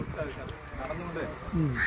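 Harsh cawing calls from crows ring out over a steady background murmur in Kerala, with a louder, clearer call near the end.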